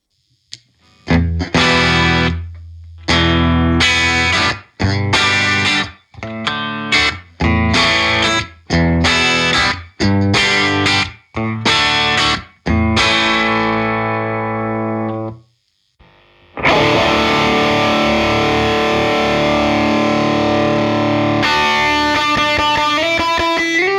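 An electric guitar played through a Universal Audio Ruby pedal gives distorted, effected tones: a run of separate strummed chords with brief gaps, then a longer sustained shimmering passage, loud and alone.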